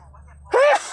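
A single loud, close human sneeze triggered by a dust allergy, a sharp explosive burst after a quiet intake of breath, heard in a small home garden in Belgium.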